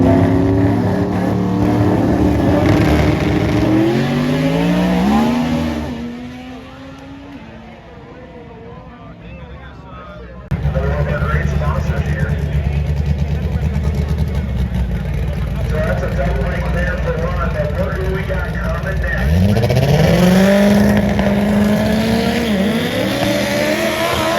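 Drag race cars take off and rev on a track, making a loud, continuous engine roar with rising pitch sweeps as they accelerate and a brief lull before the noise surges back.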